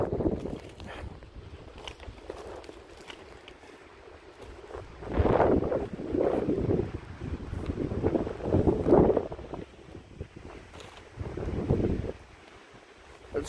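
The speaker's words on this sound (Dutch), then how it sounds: "De storm begint alweer een beetje te komen" Storm wind gusts buffet the microphone outdoors, with low rushing surges swelling and fading in irregular waves over a steadier background roar.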